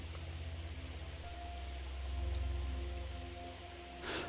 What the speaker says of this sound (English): listening to the comforting sound of that rain